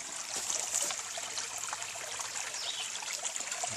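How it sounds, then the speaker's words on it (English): Steady, bright trickle of creek water running over rocks under a hardwood canopy in Alabama, continuous and close, with no voices. "Beautiful creek, guys. Look at this creek."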